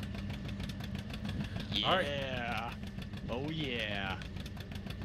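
Old tractor idling on an abandoned rundown farm in Farming Simulator 19, a steady rhythmic low engine chug running throughout while someone briefly speaks over it.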